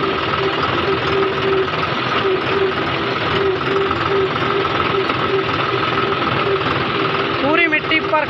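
A John Deere 5405 tractor runs steadily under load with an 8-foot rotavator on a farm, giving a loud continuous engine drone and churning vibration, with a voice briefly heard near the end.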